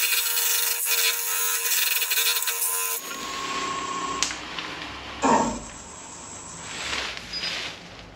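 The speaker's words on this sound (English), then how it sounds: "Get the lid parted off from the base." On a wood lathe, a parting tool cuts through a spinning wooden box to separate the lid from its base, giving a harsh scraping hiss that stops abruptly. Scattered rubbing scrapes and clicks follow.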